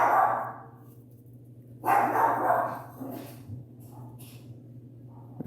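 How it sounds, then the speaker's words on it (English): A small Chiweenie mix dog barks at a passing trash truck, with a few sharp, close barks in separate bursts over a steady low engine hum. "My dog freaks out when the trash truck comes."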